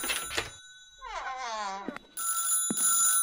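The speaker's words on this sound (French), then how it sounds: "Mon téléphone sonne." A telephone rings in the horror video game House on the Hills, with ring bursts near the start and again toward the end, separated by a wavering tonal sound in the middle.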